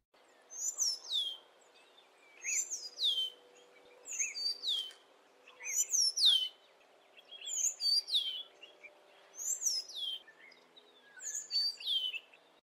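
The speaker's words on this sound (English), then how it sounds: "The southern black flycatcher calls and songs." Repeated bursts of high, sweet chirps and short whistled phrases from a southern black flycatcher, coming in regular clusters every second or so against a quiet background.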